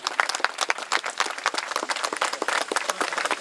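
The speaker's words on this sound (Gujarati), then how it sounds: "આપણે સૌ એમને તાળીઓથી વધાવીએ" An audience at a website launch for a Navsari district Ahir community society claps warmly: a steady, moderately distant round of many hands, with no voices over it.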